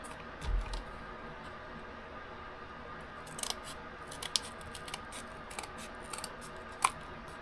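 Scissors snip through an octagon-shaped insert for a Scottish castle box, trimming it again to fit, with several quiet scattered cuts and a sharper snip near the end, heard alone at close range.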